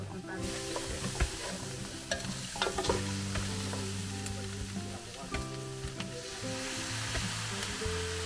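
Food frying with vinegar and soy sauce in a pan, a steady close sizzle with scattered clinks and stirring scrapes throughout, and no talking.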